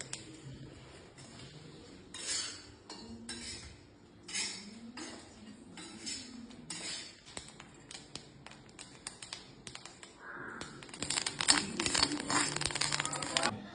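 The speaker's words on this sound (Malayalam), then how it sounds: "ഇനി നമുക്ക് അരി വറക്കാം" Rice being dry-roasted in a pan and stirred, heard as irregular scraping, rattling and light clinks of a utensil against the pan, up close and without talk, growing busier and louder toward the end.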